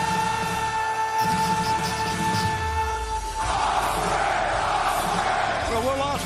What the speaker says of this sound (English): crowd chant piped in.